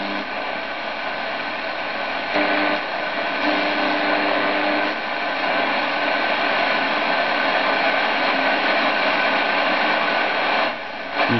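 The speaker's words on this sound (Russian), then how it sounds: "Ничего, кроме помех." Radio interference picked up by an aviation magnetic antenna on long wave in a city, a loud continuous hiss of static that hardly changes, with a few brief dips.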